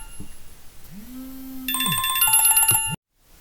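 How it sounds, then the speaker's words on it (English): A phone ringtone for an incoming call plays as a bright, repeating electronic melody that rises over a quiet room, loud and clear, then cuts off abruptly. "Okay, sorry, that's a phone call."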